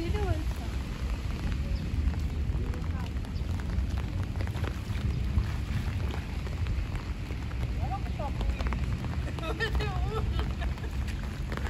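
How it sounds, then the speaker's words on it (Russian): Steady broadband hiss of rain falling continuously, with faint birdsong chirps and scattered background sounds mixed in. "Вроде там дождь усиливается."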